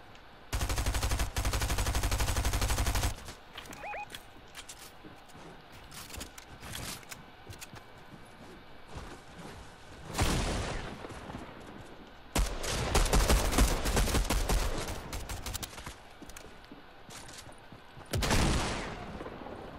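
Gunfire in the video game Fortnite: loud bursts of rapid automatic fire open the clip, and scattered shots and further heavy volleys follow through to the end, with no talk.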